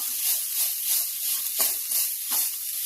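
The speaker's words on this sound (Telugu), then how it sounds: "ఇప్పుడు ఉడకబెట్టుకున్న రైస్ వేసుకొని కలుపుకుందాం" Cooked rice being tipped into a hot pan with turmeric and salt and stirred for lemon rice, giving a steady close sizzle broken by a couple of scraping stir strokes, with no talk.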